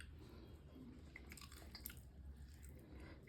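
Someone chews a mouthful of homemade pulao, soft slightly mushy rice, with quiet moist squishing and faint bites close to the mouth and no speech.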